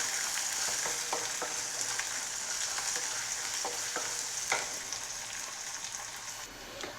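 Garlic, green chili, ginger, onion and sliced shallots sautéing in a pan for a bitter gourd buttermilk curry, giving a steady bright sizzle with soft stirring scrapes throughout, close and alone.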